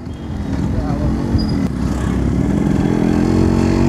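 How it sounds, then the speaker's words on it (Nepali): A modified Yamaha RX 100 two-stroke motorcycle is ridden through a narrow alley in Nepal, its engine droning close and steadily building under people talking. "यो बाइक चाहिँ फेरि जति तात्दा आयो त्यति कुद्ने हो"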